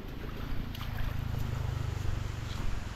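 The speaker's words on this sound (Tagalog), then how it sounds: "may narinig na yung kanilang motor" A motor engine runs steadily with a low droning hum, heard from a distance outdoors in a cassava field being cleared, with wind noise on the microphone.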